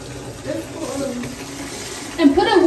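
Water runs steadily from a tap into a bathtub as it fills for a bubble bath, a continuous splashing gush that grows louder near the end.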